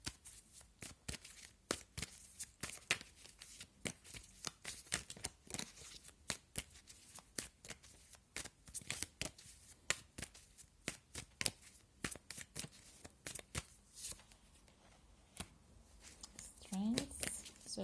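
Tarot cards shuffled by hand in a quiet room, a long run of soft, rapid riffling slaps and flicks close to the listener, occasional pauses and faint handling noise between bursts.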